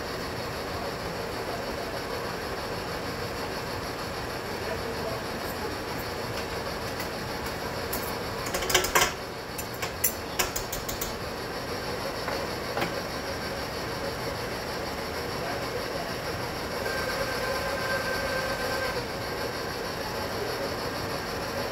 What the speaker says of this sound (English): mixer is really loud, so I apologize if you guys can't hear me.